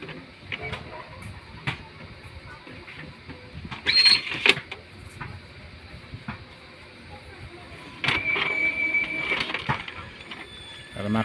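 An Epson L3110 inkjet printer runs a nozzle check, giving off a mechanical whir with short bursts of feed and carriage noise around four and eight seconds over a quiet, steady background.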